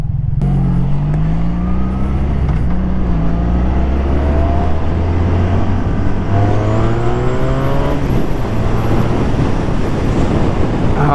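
An 1980s Honda V65 Magna liter-class motorcycle accelerates hard, its engine note climbing steeply through the gears with rising pitch, loud and close, with a brief shift dip midway.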